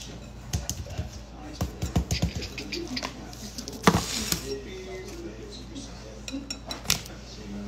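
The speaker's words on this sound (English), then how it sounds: "and I'll stir that in" Sugar being stirred into scone mixture in a bowl makes irregular clinks and scrapes of a utensil against the dish, close and moderately loud, with people talking quietly in between.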